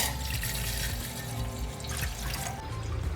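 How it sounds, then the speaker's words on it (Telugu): Water is poured straight into a pot of five cups of rice for homemade chicken biryani, a steady, continuous splashing rush with no voices. "నేను రైస్లో ఆయిల్ ఏం వేయను కాబట్టి డైరెక్ట్ వాటర్ పోస్తున్నాను"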